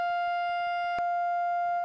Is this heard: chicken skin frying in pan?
no